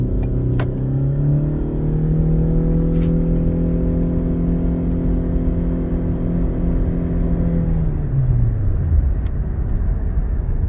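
A 2017–2018 Ford Fusion Energi Titanium hybrid's Atkinson-cycle 2.0-liter four-cylinder gas engine kicks in under full throttle, a loud steady droning rumble with rising harmonics that holds, then drops away near the end.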